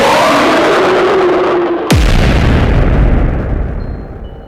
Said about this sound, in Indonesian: sebuah ledakan besar terdengar dari belakang, menghancurkan sebagian dinding lorong